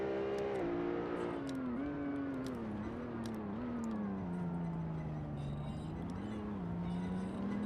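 The race car engine of a Porsche 911 GT1 in Assetto Corsa holds a steady, droning hum with small pitch rises and dips. It stays at a moderate level, and no voices are heard.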